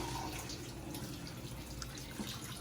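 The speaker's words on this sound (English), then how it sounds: "you're gonna get your granos, you're gonna open it and you're gonna drain it" Liquid drains from an opened can of hominy into a sink in a steady, close trickling splash with scattered drips, fairly quiet and without talk.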